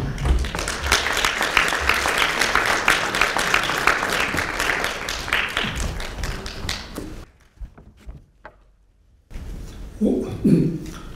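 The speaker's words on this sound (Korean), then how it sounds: "박수 부탁드립니다." Audience applause at a memorial concert for organ donors, a loud, dense round of clapping that runs about seven seconds before cutting off, followed by near silence and then a voice beginning to speak.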